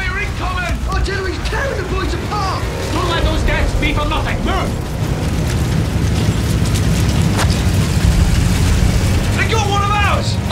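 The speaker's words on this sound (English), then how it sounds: "Boy, you're incoming! Artillery!" Artillery shell explosions in Battlefield 1 on a muddy battlefield, deep booms and rumbling blasts running under shouting voices, mechanical clatter and a thick wartime din throughout.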